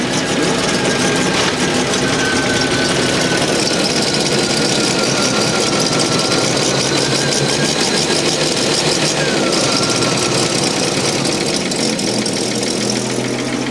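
Wedding bus engine idling smoothly and evenly, a steady, loud, close mechanical hum with a fine ticking rhythm that holds unchanged throughout, with no voices over it.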